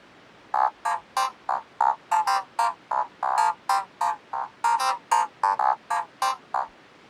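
Short, punchy clavinet notes with a bright, twangy attack play in a choppy, funky rhythm, each note clipped off quickly, alone and close.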